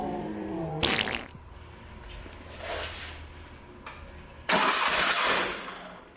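An Onan model CCK engine is cranked with an electric starter in short whirring bursts, then catches and runs briefly with a loud, steady buzzing drone before dropping away.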